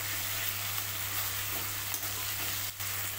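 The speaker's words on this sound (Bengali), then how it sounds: "এটাও ভালো করে কষিয়ে নেবো" Cashew, poppy seed and rice paste fries in a pan for a fish curry, giving a soft, steady sizzle with faint stirring scrapes and no voices.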